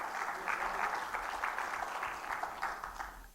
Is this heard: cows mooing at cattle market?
no